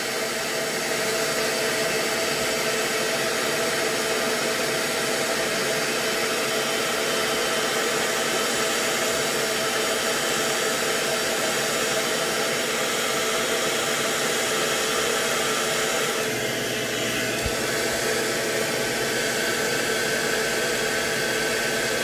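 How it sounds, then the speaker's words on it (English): A hair dryer blows steadily on its cool setting while drying hair at the edges, a constant loud whooshing airflow that runs without a break for the whole stretch, with a slight shift in tone near the end. "Blow dry."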